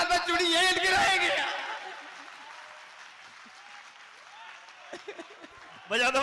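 An audience at a Hindi comic poetry gathering bursts into applause after a man's spoken line, a broad clapping roar that fades into scattered claps and light chuckles before the voice returns.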